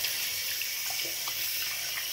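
Water runs steadily from a sink tap while a face is rinsed under the stream, making a constant close hiss.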